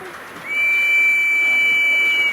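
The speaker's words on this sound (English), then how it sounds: "Nice whistle." A model OO-gauge steam locomotive whistle sounds in one steady, shrill, sustained blast lasting about two seconds, close and loud, with no talking over it.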